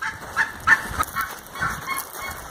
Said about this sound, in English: Oh, can you hear them birds, them geese?